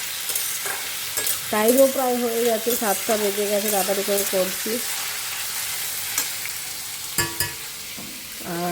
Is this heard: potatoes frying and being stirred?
yes